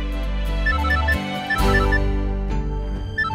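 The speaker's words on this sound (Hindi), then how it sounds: "एक जरूरी फोन कॉल आ गया" A musical phone ringtone plays a repeating melodic pattern over a steady low tone, loud and close, with no voices.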